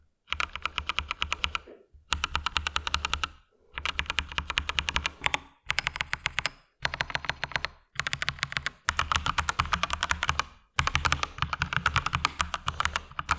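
Bursts of fast typing on an Akko 3098N mechanical keyboard, sharp close clacks in runs of a second or two separated by brief pauses, no talking.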